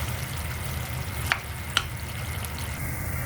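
Biko rice cake mixture being stirred in a pan, a steady low frying hiss with two sharp utensil scrapes against the pan partway through.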